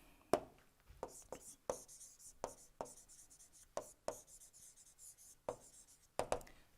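Marker or chalk strokes on a board during an engineering lecture on alternative fuels, a dozen sharp taps and scratches in an irregular rhythm, close and fairly loud, with no talk over them.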